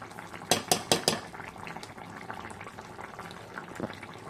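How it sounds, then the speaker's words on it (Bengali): A lid comes off a simmering pot of rohu fish curry with ridge gourd and potato: four quick metallic clinks close together, then quieter bubbling and faint kitchen clatter. "এখন আমি খুলে দিচ্ছি।"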